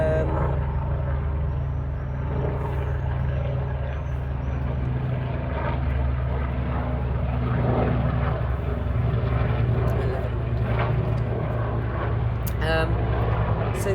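A helicopter drones steadily overhead with a constant low rotor and engine rumble, while a person talks nearby throughout.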